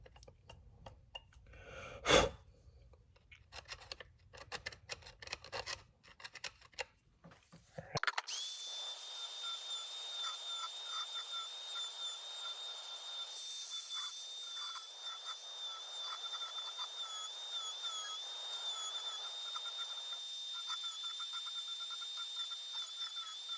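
Power tool cutting through an aluminum shotgun loading port, a few seconds of scattered clatter then a steady high-pitched whine that runs on evenly for the rest of the clip.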